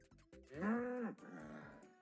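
A cow gives one close, drawn-out moo that swells and then trails off into a lower second part.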